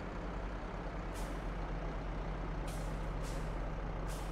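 Heavy farm vehicle in Farming Simulator 22 with a loud, steady engine drone throughout and repeated short hissing air-brake bursts.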